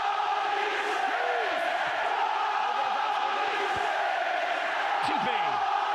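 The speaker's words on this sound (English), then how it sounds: "Listen to this crowd." A packed rugby league stadium crowd at a St Helens v Leeds Rhinos play-off match in 2007 roars continuously, a dense sustained wall of noise with swells and shouts, under a commentator's voice.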